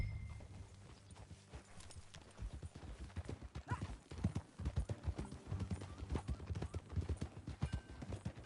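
Horse hooves clip-clop in a steady walking rhythm in the Western game Red Dead Redemption 2, close and fairly quiet, with uneven strikes over soft outdoor ambience.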